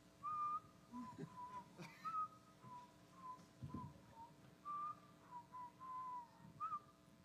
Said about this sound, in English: you need to keep whistling